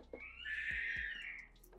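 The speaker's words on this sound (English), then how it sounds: "My kid is learning how to scream" A young child's high-pitched scream rises and holds for about a second, somewhat distant in the background, with a few soft low thumps beneath it.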